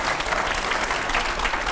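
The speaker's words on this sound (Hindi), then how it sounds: "वाकई में इसके लिए एक बार फिर से तालियां बनती है" Brief burst of audience clapping during a televised interview, steady dense applause filling the short moment without any talk over it.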